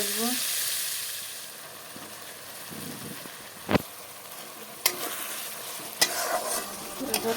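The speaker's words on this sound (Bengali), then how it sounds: "সবজিগুলোকে ভেজে নিই" Vegetables frying in a hot pan with onion and dried fish: a steady soft sizzle with stirring, broken by a few sharp clinks of a utensil against the pan.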